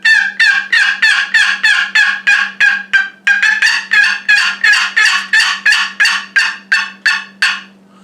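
A cheap Quaker Boy Banshee turkey call plays a rapid string of loud, evenly spaced yelps, about twenty in a row, with nothing else heard.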